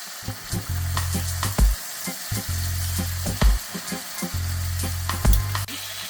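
Callaloo leaves simmering in a pan with stock sizzle and fry steadily, and a spoon stirs the pot several times, each pass scraping and clacking against the metal close by.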